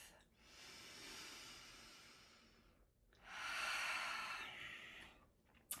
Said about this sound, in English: you can just ground yourself, and just take a few deep breaths